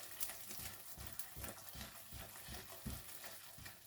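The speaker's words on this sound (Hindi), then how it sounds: "चम्मच आपने बराबर हिलाते रहना होता है।" A spoon stirs butter into a mixture cooking in a pan for an Eid sweet, giving repeated scraping strokes over a soft, steady sizzle, fairly quiet and close, with no talking.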